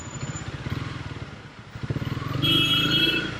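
Several motorcycles idle and rev in a jammed street in Dhaka, engines close by with clattering putters and a rising rev near the end, plus traffic noise in the background.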